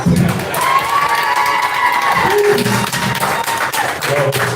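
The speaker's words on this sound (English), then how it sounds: "That deserves a hand clap." Crowd at a drag pageant clapping and cheering: loud, continuous applause with whoops and shouts, while a voice carries over it in the middle.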